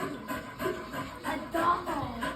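A voice imitates a hound dog panting with a few quick, breathy huffs, close and fairly soft, in short bursts.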